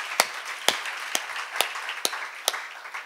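A church congregation at a Korean worship service claps in unison, six sharp, evenly spaced claps about half a second apart, moderately soft with a faint room hum between them.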